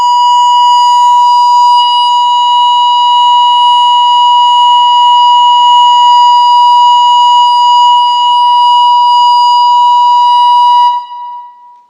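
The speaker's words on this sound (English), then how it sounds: "That's the sirens of our youth crying." A loud, steady electronic siren tone with strong harmonics plays alone for about eleven seconds before cutting off abruptly.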